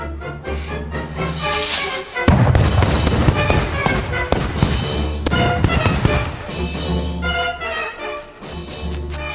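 A sudden loud blast breaks in after a brief lull, followed by crackling bursts and rumbling booms that trail off, set against a musical background.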